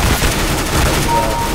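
Rapid gunfire from a first-person shooter video game, loud and continuous with overlapping shots filling the whole moment, with no pauses between bursts.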